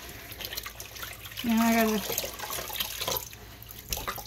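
Hot tap water runs steadily into a sink while a chest binder is being washed, a broad wash of splashing under a man's brief speech.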